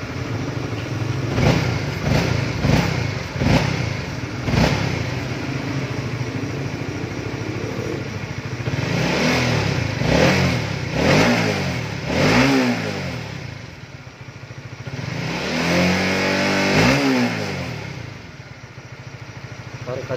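A Honda CBR 150 motorcycle engine with a fault under diagnosis is revved with the throttle, giving repeated rising bursts over a steady idle, close and loud, with occasional talk mixed in.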